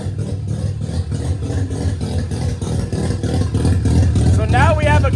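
A Mazda FC RX7 rotary engine runs close by, a steady low throbbing idle with a rough, pulsing rumble. Near the end a voice speaks over it.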